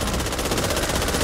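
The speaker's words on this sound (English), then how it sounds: "Firecrackers." Rapid crackling bursts of firecrackers going off in the zombie shooter video game Back 4 Blood, a dense continuous popping that fills the whole moment at close range.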